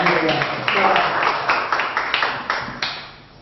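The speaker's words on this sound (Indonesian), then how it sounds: "Kita berikan tepuk tangan bagi Tuhan kita." A church congregation at a charismatic worship gathering claps loudly, with distinct sharp claps standing out from the crowd, then the applause gradually fades away.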